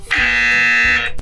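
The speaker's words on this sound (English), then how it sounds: "whoever presses the buzzer first will answer." A quiz-game buzzer pressed once during a couples challenge, giving a single loud, steady electronic tone that holds for about a second and then cuts off, close and alone.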